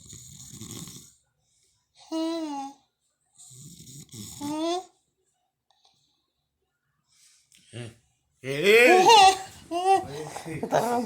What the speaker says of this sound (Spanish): Está roncando, güey.